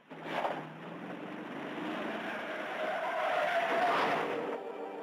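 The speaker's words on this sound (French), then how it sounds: "c'est mes freins qui se sont bloqués" A long screech of tires skidding on pavement as a car's brakes lock, steady and loud for several seconds before cutting off abruptly.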